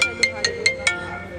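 A phone ringtone sounds as five quick, evenly spaced bright beeps, close and clear, over a soft background hum.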